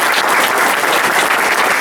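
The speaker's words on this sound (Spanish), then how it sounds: "Dale un aplauso al Espíritu Santo." A church congregation bursts into loud, dense applause during a worship service, a steady wash of many hands clapping that fills the whole short stretch without speech.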